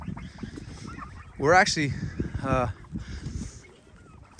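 Pasture-raised turkeys gobble in a couple of loud, rattling bursts close by, with a person talking over and around them outdoors.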